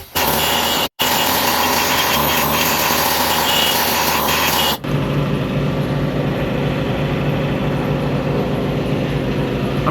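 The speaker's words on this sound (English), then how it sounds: "But instead I got this fancy air nibbler looking thing. I'll use that instead." Air nibbler cutting the stainless exhaust on a 2001-2003 Toyota RAV4: a loud, continuous pneumatic rattle that breaks off for a moment near the start, then drops to a lower, steadier buzz about halfway through.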